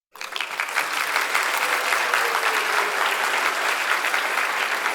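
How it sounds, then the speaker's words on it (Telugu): Sustained applause from an audience at an Ugadi meditation gathering honouring cleaning staff, starting abruptly and holding a dense, steady clapping roar for several seconds with no talk. "గట్టిగా చప్పట్లు కొట్టండి."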